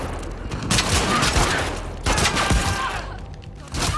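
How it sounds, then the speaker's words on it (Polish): Gunfire in the video game The Last of Us Part II comes as bursts of loud, sharp shots in two or three clustered volleys with echoing tails, close and dominant. "Ja nienawidzę tych strzałów."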